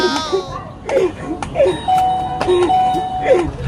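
A doorbell chimes again and again in quick succession, loud and close, with a voice heard at the start.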